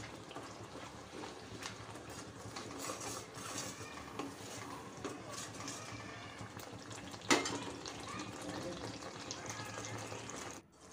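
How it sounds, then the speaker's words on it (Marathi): Masala sizzles softly in oil over a low flame for Nagpur-style Savji chicken curry: a steady, faint crackle with occasional stirring clatter, including one sharper knock, and a voice in the background. "आता आपला हा जो सर्व मसाला आहे तेल सुटेपर्यंत आपल्याला छान असा परतून घ्यायचा आहे।"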